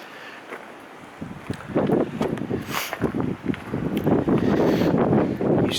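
Gusty wind buffets the microphone outdoors at the grounds of Farleigh Hungerford castle, building into a loud, continuous rumbling roar after a quieter start.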